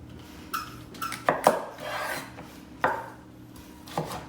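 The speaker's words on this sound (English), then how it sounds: "So just chopping the vegetables up takes the longest part." Knife chopping butternut squash and other vegetables on a cutting board: a series of close, sharp cuts and thuds, spaced irregularly, with scraping in between and no talking.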